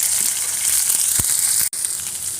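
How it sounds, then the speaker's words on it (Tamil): Steady, bright sizzling of green chillies and curry leaves sautéing in hot oil in a pan, continuous and close, with a few faint stirring scrapes and a brief dip in the frying hiss near the end. "பச்சை மிளகா நாலு பச்சை மிளகா கொஞ்சம் கருவாக்கலாம் எல்லாம் போட்டு நல்லா வணக்கிக்கலாம்"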